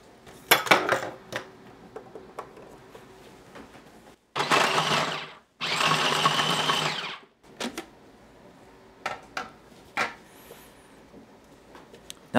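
A machine grinds cold cubed beef for homemade hotdogs, running in two loud, close bursts of whirring motor noise. Scattered clanks and knocks of metal parts and utensils come before and after.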